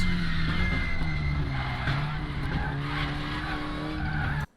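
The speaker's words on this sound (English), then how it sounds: "Braking here, so it's full pressure, hard as you can on the brake coming into the last chicane." A WTCR touring car in the RaceRoom racing game brakes hard into the last chicane at Suzuka, with loud, steady tire skidding and squeal over the engine drone for several seconds, cutting off abruptly at the end.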